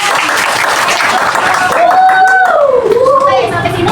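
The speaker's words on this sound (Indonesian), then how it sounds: "Boleh kita kasih tepuk tangan?" Classroom applause for a student during a teaching session, a loud burst of clapping with a voice speaking and a drawn-out tone over it in the second half.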